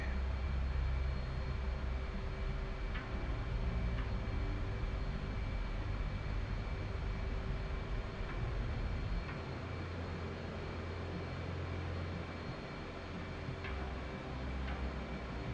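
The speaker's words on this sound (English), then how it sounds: "I'll try to stay out of afterburners for takeoff." Steady jet engine roar of a fighter aircraft on its takeoff roll in the flight simulator DCS World, without afterburner, a continuous broadband rumble with faint ticking clicks scattered through.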